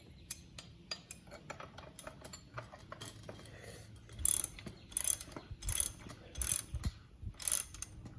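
A hand tool ratchets as the fork cap bolt is tightened on a Yamaha YZ125 motocross bike's front fork, giving rapid clicking runs with sharp metallic taps. Bursts come in quick succession, close and clear, with no talking.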